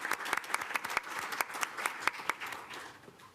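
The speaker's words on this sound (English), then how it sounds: "A round of applause." A round of applause at a city council meeting, with many hands clapping in an irregular, moderately dense burst that stays fairly steady and then thins toward the end, with no talking over it.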